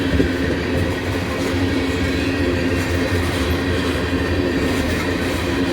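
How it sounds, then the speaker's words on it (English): A freight train rolls past in Abbeville, a loud, steady rumble and clatter of railcars filling the scene without letup. "This is the first train I've caught in 4 or 5 days."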